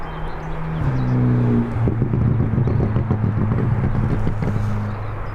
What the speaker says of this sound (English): And that was definitely another car.